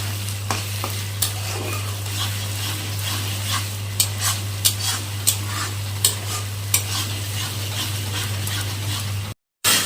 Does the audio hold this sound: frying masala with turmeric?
yes